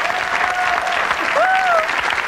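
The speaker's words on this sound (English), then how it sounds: "Let's give them another round of applause." Studio audience applauding on a talk show, a dense, steady clapping that holds loud across the short stretch while a voice whoops over it.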